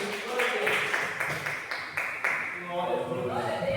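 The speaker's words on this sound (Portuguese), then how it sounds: "e as palmas boas que glorificam o Rei da Glória" A worship congregation claps in a quick, steady rhythm while a voice talks over it and the room fills with a bright, busy wash of sound.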